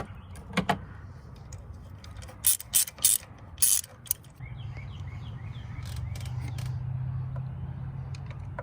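Close ratchet clicking in a few quick bursts as a spark plug socket loosens a spark plug on a 2007 Dodge Nitro, followed by a steady low hum, no voices.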